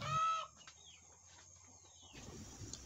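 Free-range village chickens in a rural Indonesian yard, with a brief loud cluck up close followed by quieter faint squawks and chirps over low background noise.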